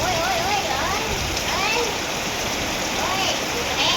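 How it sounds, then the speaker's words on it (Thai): Steady rain falls throughout, a dense even hiss with no breaks, while people talk and call out over it in a rural family setting. "ฝนตกวันนี้"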